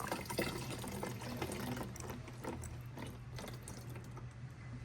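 Coolant drains from a disconnected BMW M5 hose into a bottle, a steady close trickle and gurgle of liquid running for several seconds with no talk.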